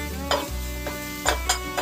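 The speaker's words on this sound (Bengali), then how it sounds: "জিরা দিয়ে আলুগুলো হলুদ আর লবণ দিয়ে ভালো করে বেছে নিচ্ছি" Potatoes fry in a pan with cumin, turmeric and salt, giving a steady close sizzle broken by several quick scraping stirs of a spatula.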